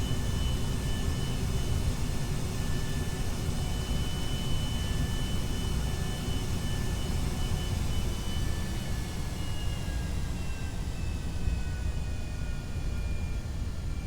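Fixed-wing aircraft in the Kerbal Space Program game carrying a payload on a runway landing, heard as a steady, loud jet-engine drone with faint whining tones that slowly drift down, continuous throughout with no talk.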